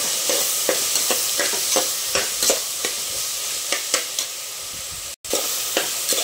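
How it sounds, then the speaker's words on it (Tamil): Black chickpea masala sautés in a pan while a spoon stirs it, a constant loud sizzle broken by regular scraping strokes roughly twice a second, with one abrupt brief cut near the end. "பாருங்கள், இது நல்லா வதங்கிட்டு இருக்கு."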